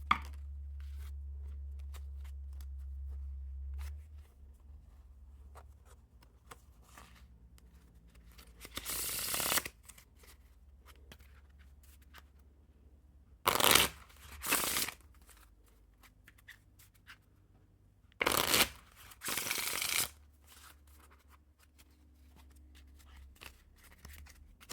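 A Theory11 Captain America deck of playing cards is shuffled in several short, brisk riffles, crisp fluttering bursts with long quiet gaps between them.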